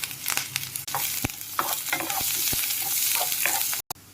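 Cumin, onion, carrot, coriander leaves and spices fry in oil in a pan while being stirred, giving a steady close sizzle broken by repeated spoon scrapes and clatters, ending with a brief pause.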